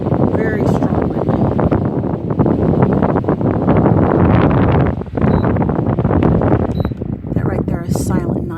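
A Rowenta pedestal fan runs on its turbo boost setting, a loud, steady rush of blowing air with wind-like buffeting, while a person talks over it.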